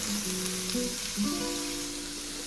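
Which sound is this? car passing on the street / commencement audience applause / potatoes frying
potatoes frying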